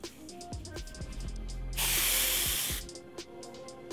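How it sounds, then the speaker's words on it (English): High Beams Intense Temporary Spray Hair Color in Burgundy sprayed onto natural hair: one steady, loud hiss lasting about a second, with light handling clicks and rustles before and after. "And put some spray in it."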